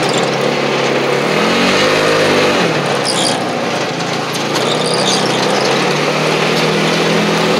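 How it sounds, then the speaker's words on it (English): A 1995 Ford Ranger engine runs loud and close as a steady, dense mechanical roar with a brief rise in pitch partway through, and no talking. "Let's go to the Ranger and get her started."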